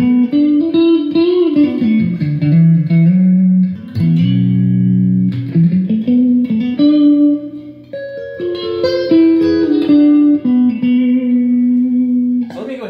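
Electric guitar through a Blackstar HT Club 40 MKII valve amp with its light, plate-style reverb, sustained melodic notes and chords ringing with a soft tail, loud and close, no talking.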